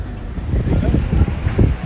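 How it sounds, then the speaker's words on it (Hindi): Loud wind in Ladakh buffets the microphone in a continuous low rumble with rising gusts. "यहाँ पे बहुत तेज़ हवा चल रही है।"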